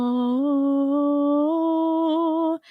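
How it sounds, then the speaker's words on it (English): A single sustained sung note with a dull, muffled tone from the tongue pulled back, holding steady and stepping up slightly before cutting off abruptly. "that's the sound of my tongue pulling back, and that muffled sound"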